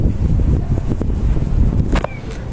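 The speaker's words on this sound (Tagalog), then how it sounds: "Sobrang lamig, lakas ng hangin." Strong wind buffets the microphone with a loud, continuous low rumble, a few faint high squeaks and whistles coming through.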